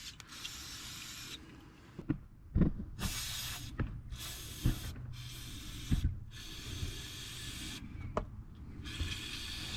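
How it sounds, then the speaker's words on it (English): An aerosol can of brake parts cleaner sprays onto the oily rear differential area of a Corvette in a series of loud, close hissing bursts. Short pauses and small clicks and knocks fall between the bursts. "take a little bit of brake parts cleaner and just clean the area"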